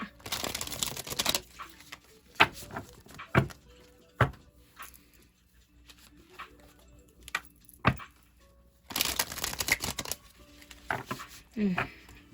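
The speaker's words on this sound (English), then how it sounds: "sound of fresh cards shuffling in the morning" A fresh deck of playing cards is riffled and shuffled in two bursts of rapid fluttering, with soft taps and card clicks in between.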